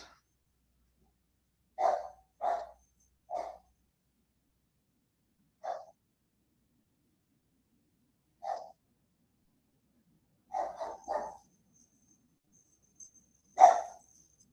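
A dog barks in short, separate bursts spread irregularly, about ten in all, moderately loud and fairly near, with silence between them and no talking.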